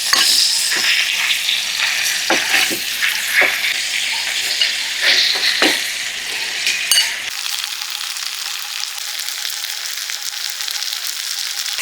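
Mutton roasts in melted butter in a pan with a loud, close sizzle, broken by scraping stirs and clinks for the first several seconds before settling into a steady frying hiss.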